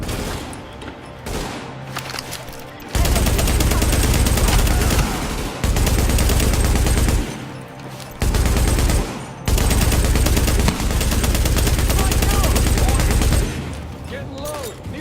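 Bursts of automatic gunfire in The Division, loud sustained volleys broken by short pauses, with game dialogue calling out orders over the shooting.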